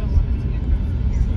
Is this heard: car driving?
yes